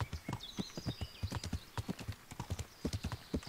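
Horse hooves clip-clop in a steady galloping rhythm while riding in the medieval video game Kingdom Come: Deliverance, with clear, close thuds and a faint whinny-like cry early on.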